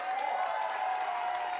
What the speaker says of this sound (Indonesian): Mana tepuk tangannya kepada Nganga?